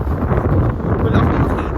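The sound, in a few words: wind blowing during ATV ride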